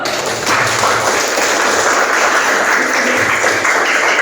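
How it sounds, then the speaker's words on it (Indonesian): A class of students clapping steadily, sustained applause at moderate loudness with no voices over it. "ya, oke, tepuk tangan dulu"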